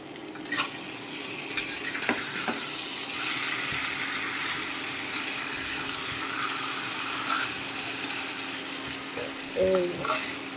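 Duck meat frying in a pan with steady low sizzling, a few scraping stirs and light clinks of a spatula, moderately close, with no talking.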